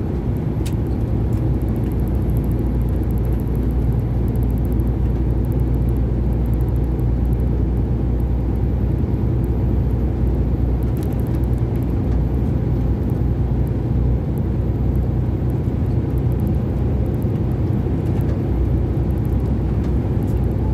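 A truck cruises along a European highway at about 85 km/h, a steady, loud low engine drone and road rumble from inside the cab, continuous with no talking.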